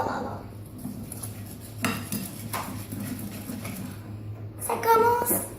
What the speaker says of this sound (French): tu mélanges jusqu'à ce que ça blanchisse